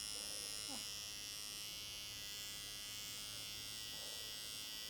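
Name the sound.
razor shaving inside the ear at an ear-cleaning session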